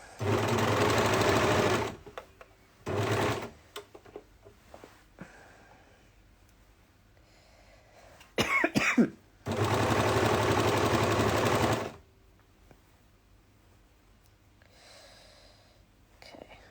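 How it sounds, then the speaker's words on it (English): An overlocker stitches the side seams of a child's dress in loud bursts, running for about two seconds, briefly again, then a longer run of a couple of seconds, with quiet handling noises between. "I'm just going to overlock them."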